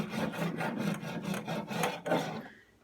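A cheese grater file rasps across hardened auto body filler, producing rough, continuous back-and-forth strokes in a steady rhythm, close up with no voices.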